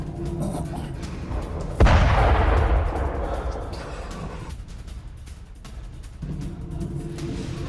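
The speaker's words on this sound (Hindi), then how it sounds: "एयर डिफेंस ने यहां पर इंटरसेप्टर मिसाइल दागी है" Air defence interceptor missile fire during the Russia-Ukraine war: one sharp, heavy boom followed by a long, fading roar over steady background rumble, distant and powerful.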